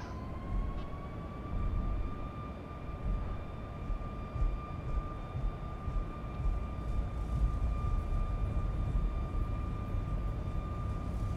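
Boeing 737 MAX 8 jet engines spool to a steady takeoff roar in X-Plane 11 on a departure from Stockholm, a constant loud broadband rumble with a sustained whine held throughout.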